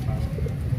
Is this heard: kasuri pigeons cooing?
yes